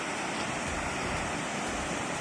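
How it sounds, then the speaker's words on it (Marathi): Water pouring down from above near Vajrai waterfall in Satara, India, as a steady dense roar that fills the short clip without a break. "वरतून पाणी पडतंय"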